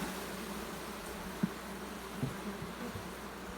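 Honeybees hum in an opened beehive box during an inspection, a steady low drone with a few soft knocks and bumps from handling, fairly quiet throughout.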